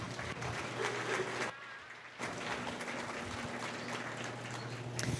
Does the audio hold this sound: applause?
yes